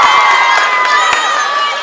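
A crowd at a high-school basketball game chants loudly in a packed gym. The chant is steady and continuous, with bright, dense voices and a few sharp shouts over it.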